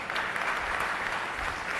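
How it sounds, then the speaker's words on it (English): An audience of parents applauds graduating grade 10 students at a school graduation ceremony, a steady, dense wash of clapping that fills the short stretch without pause. "may I request all parents to join me in applauding these heroes"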